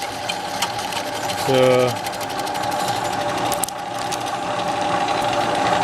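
A hand-cranked lever cutting tool working through sheet material to open a hole for an air vent, a steady mechanical grinding and rattling drone throughout with a brief louder buzzing burst early on, and someone talking over it.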